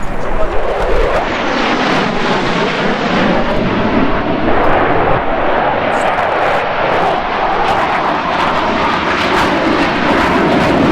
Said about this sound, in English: These are the Airforce Thunderbirds, and they're incredibly loud.